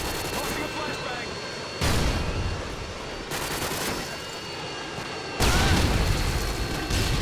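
A Call of Duty Modern Warfare 2 match rumbles with repeated bursts of gunfire and booming blasts, including a thrown flashbang, in loud sections separated by brief lulls.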